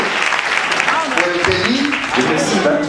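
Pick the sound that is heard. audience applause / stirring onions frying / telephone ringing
audience applause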